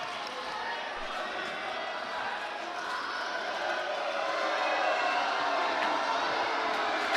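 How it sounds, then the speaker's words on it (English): Wrestling arena crowd at an AWA Coca-Cola Rumble event, a steady broad roar of fans, likely booing, sustained and dense throughout, swelling slightly toward the end. "Congo not believing that the fans are booing him"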